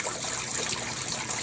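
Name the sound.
pouring Clorox bleach into a container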